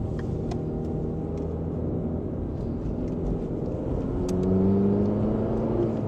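A 2007 MINI Cooper Clubman with a 1.6 engine pulls away on the road, a steady low engine drone and road rumble from inside the car that swells slightly as it accelerates.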